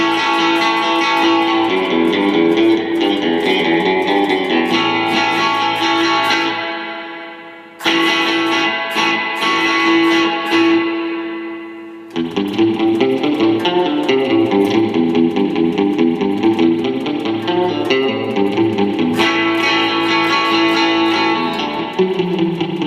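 Electric guitar through an Amplitube 5 spring reverb, half mix, plays sustained distorted chords and lines with a long splashy tail, breaking off twice into ringing decay before resuming loudly.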